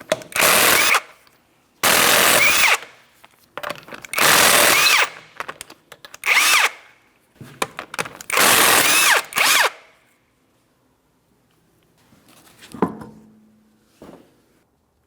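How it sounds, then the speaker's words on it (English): A power tool removing 19mm lug nuts from the front wheel of a 2004-2008 Pontiac Grand Prix 3.8L V6, heard as five loud close bursts of whirring rattle separated by short pauses, followed by faint clinks. "remove all 5 of your 19mm lug nuts and we can get the wheel off of here"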